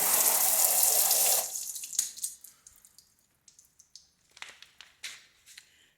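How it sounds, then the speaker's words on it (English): A hose rinses a freshly sanded car headlight: a loud rush of water for over a second, then scattered drips and splashes as the flow stops, close by with no talking. "Hose it off."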